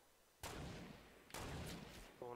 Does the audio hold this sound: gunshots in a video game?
yes